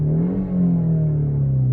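A 2018 Peugeot 308 GT 1.6 THP 205 hp engine in sport mode hums with a smooth, steady purr, its pitch rising slightly then holding even, close and continuous.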